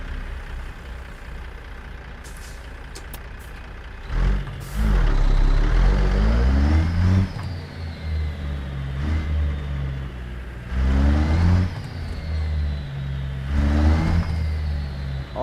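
Peterbilt 389 truck engine accelerating in repeated pulls, each revving up loud and close with deep rising tones, separated by quieter gear shifts and a brief hiss, a few light clicks early on.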